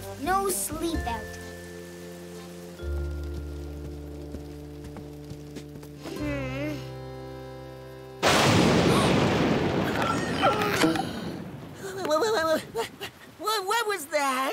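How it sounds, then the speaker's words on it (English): Cartoon thunder from a storm at a campfire sleep-out breaks in as a sudden loud, broad rumbling crash partway through, following music and voices and then continuing under further talk. "Just thunder, Squidgy"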